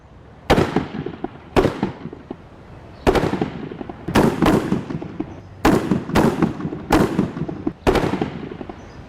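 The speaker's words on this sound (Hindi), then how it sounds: "Load 5 round on time on target fire." Gunfire from rounds shot at a target on a firing range, about eight sharp, loud cracks at irregular intervals with a brief gap between most shots and a light background hiss.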